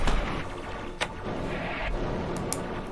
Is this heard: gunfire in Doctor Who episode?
yes